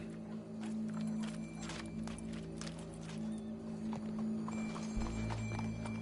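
Hooves of a horse in a video game clop steadily and softly for several seconds, sitting behind a continuous game soundtrack hum with a few faint tones.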